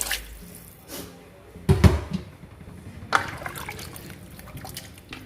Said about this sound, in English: So I'm using the pot. Look at it. I'm just rinsing in it.